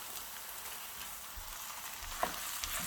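Minced beef, about 400 g, frying in a hot pan, giving a steady close sizzle with small crackles and a few louder pops near the end.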